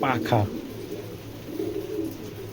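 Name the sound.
pigeon cooing while held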